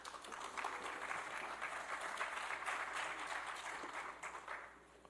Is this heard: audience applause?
yes